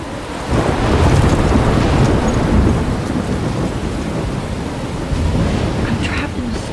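Thunderstorm in the game Life is Strange near a lighthouse: a steady, loud roar of heavy rain with deep rolling thunder rumbling throughout, the storm sound continuous from start to finish.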